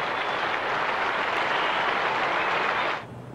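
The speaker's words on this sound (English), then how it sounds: "He'll receive another standing ovation from a smaller crowd this time." Sustained applause from a cricket crowd giving Brian Lara a standing ovation, dense steady clapping heard from a distance, fading quickly at the very end.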